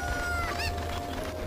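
A short burst of video-game chicken clucking from Zelda: Ocarina of Time, one rising squawk over a steady musical drone, clear and close.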